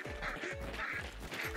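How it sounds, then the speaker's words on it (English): A startled bird bursts out with rapid quacking, flapping calls in the video game Hunt: Showdown, several loud close squawks repeating over a dense ambient background. "Whoa, that bird scared me."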